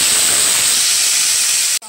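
Tomatoes hit hot oil tempered with five-spice seeds and dried chilli for a mango chutney, setting off a loud, continuous hissing sizzle that cuts off abruptly near the end.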